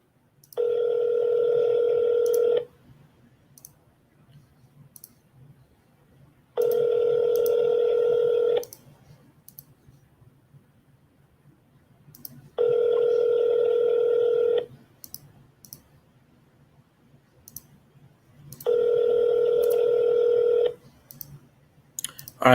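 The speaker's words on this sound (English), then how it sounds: "I'll call one more time if they don't pick up the phone." Telephone call ringing out unanswered on a landline, four long evenly spaced ring tones separated by silent gaps, clear and close with no voices.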